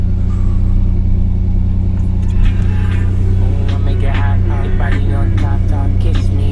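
Engine of a 1985 Ferio car running after starting, a loud steady low idle rumble close up, with a person talking over it in the second half.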